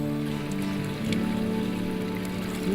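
Natural spring water pours steadily from a spout at Furnas on São Miguel island, a continuous close splashing and trickling flow with no voices.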